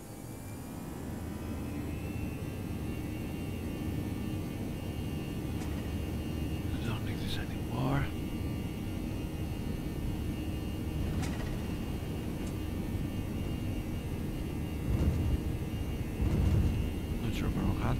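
Inside an Airbus A319 cabin at takeoff on runway 29, a steady loud engine roar and rumble fills the whole stretch, with faint voices under it and a slight swell near the end.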